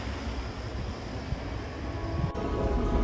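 A subway train rumbles steadily and loudly from inside a metro car in Korea, a continuous roar of wheels and motor with no voices.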